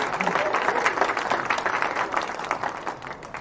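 A dense, continuous burst of audience clapping at a university commencement ceremony, a loud, even wash of many hands, steady throughout.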